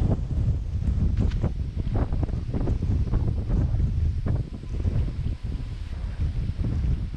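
Strong wind buffets the microphone beside a shallow creek on a cold, windy afternoon, a steady loud low rumble with gusting bursts throughout and no voices.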